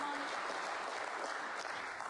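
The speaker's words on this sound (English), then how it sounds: "you heard the cheer from the crowd" A snooker crowd applauds Judd Trump's 101 break at the English Open 2024, producing dense, sustained clapping that fills the arena evenly, heard from a distance as a steady wash.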